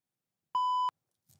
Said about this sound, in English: Got to do the beeps.